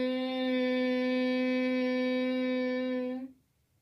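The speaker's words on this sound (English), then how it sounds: "While exhalation, we produce humming sound like this." A steady nasal hum held on one low pitch for about three seconds during a Bhramari pranayama exhalation, close and even, ending abruptly in quiet.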